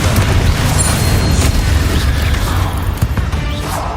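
Confringo fire spell exploding in the Hogwarts Legacy video game, a loud sustained rumbling blast with crackling bursts, dense low boom holding steady throughout.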